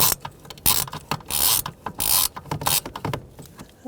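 Loosening and removing the last bolt on the HVAC blower motor of a 2000-2007 Ford Taurus, heard as close, busy mechanical clicking and rattling with short bursts and pauses, no talking.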